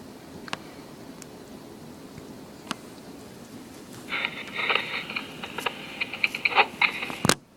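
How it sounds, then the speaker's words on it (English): Rain patters steadily in the background, then grows louder and denser with sharp close drips and ticks striking a nearby surface toward the end. "And it's raining really hard."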